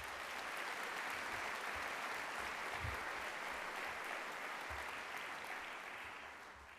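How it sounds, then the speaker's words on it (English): Sustained applause from a large audience at a university convocation, a steady dense roar of clapping that holds evenly and fades slightly at the end. "Let's give them a round of applause."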